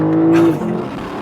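Lexus LC 500 V8 coupe accelerating hard, a loud steady engine drone rising then dropping sharply at a quick, snappy upshift before pulling again, heard close up from inside the cabin.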